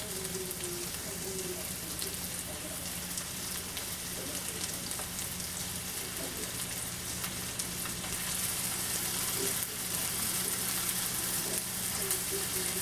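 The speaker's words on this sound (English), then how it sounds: "Those are going to sear up real well." Squirrel meat searing in a pan with curry spices, cumin and pepper, a steady soft sizzle and crackle running throughout at moderate level, with no talking.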